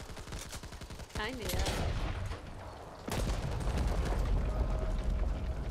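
Gunfire in the video game Back 4 Blood: rapid, steady shots at first, then a sudden heavier blast of loud sustained firing that continues to the end, with a brief spoken remark in between.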